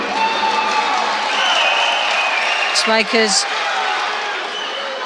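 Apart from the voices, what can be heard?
judo arena crowd cheering and applauding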